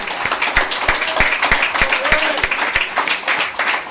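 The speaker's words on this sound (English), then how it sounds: "Let's give Sister Linda another round of applause." Congregation in a mosque during a Sunday lecture applauds, a busy patter of many hands with a few close, sharp claps beating out a steady rhythm, voices murmuring underneath.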